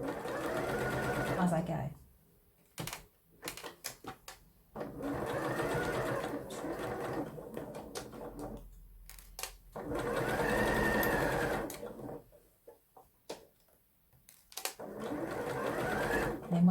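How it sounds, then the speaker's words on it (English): Domestic sewing machine stitching a fabric seam at 2.2 stitch length, running in steady whirring bursts with pauses between them, a voice speaking briefly alongside. "I'm going to stitch the seam, stopping with the needle down and taking the pins out"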